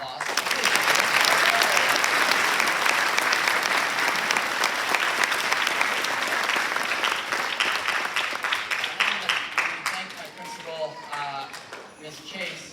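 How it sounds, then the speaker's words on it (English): A school concert audience applauds a teacher: dense, sustained clapping that swells early, then gradually thins and fades toward the end. "Let's give her a round of applause."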